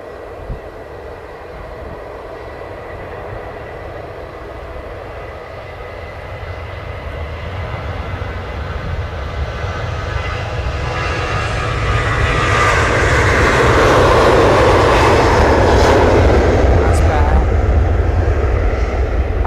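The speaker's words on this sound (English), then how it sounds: "EasyJet are testing their engines though." EasyJet jet engines run up for testing at Manchester Airport, a loud, steady roar that builds gradually and swells to a sustained high-pitched whine, heard from a distance across the airfield.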